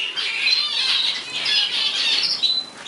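Zebra finch and parrot finch chicks squawk nonstop in shrill, overlapping bursts from inside nest boxes, loud and close, with no talking.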